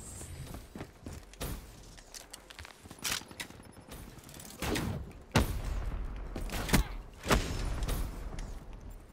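Gunfire in Call of Duty: Black Ops III multiplayer, scattered sharp shots and thuds with footsteps between them, fairly quiet and irregular, a few louder bursts near the end.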